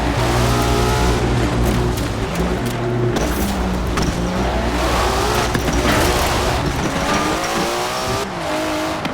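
Game audio of a car driving over rocky ground plays loudly and steadily, with engine drone, skidding and tire noise throughout while a DualSense controller vibrates; no one speaks.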